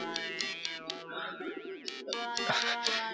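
Pigeons cooing in the video game Hiveswap, several short rounded coos in quick succession mixed with bird calls, close and fairly clear, with some tonal game sounds alongside.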